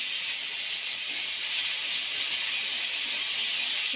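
Constant loud hissing sizzle, like a wet paste hitting hot oil, steady and unbroken throughout with no talking.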